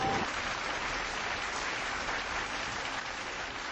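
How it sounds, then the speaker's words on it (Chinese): A Chinese audience at a live video-link event breaks into warm, sustained applause, a dense, even wash of clapping that holds steady throughout without talk. "中国现场爆发了热烈友好的掌声"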